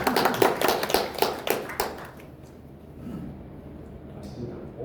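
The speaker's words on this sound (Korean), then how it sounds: "박수 한번 주시죠." An audience at a business forum lecture gives a quick burst of clapping that lasts about two seconds and then stops, leaving only quiet room tone.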